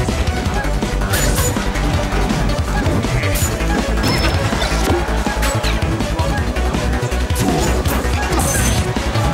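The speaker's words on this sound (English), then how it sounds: "the down smashes are just destroying Squeak right now" Heavy smash and thwack hits from down smash attacks ring out repeatedly in a Project M match between Peach and Meta Knight, dense and loud over constant game noise and crowd sound.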